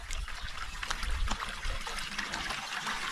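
Water trickles and flows steadily in a woodland creek, a close, continuous babble with small splashy bursts and no voices.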